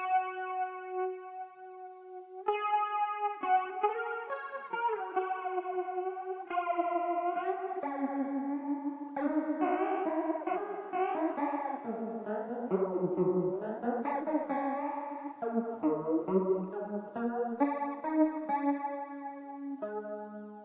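An electric guitar through a flanger effect plays a melodic line as the intensity is raised from low to high, the tone growing more swirling and pitch-wobbling over about twenty seconds of steady playing, with no voices.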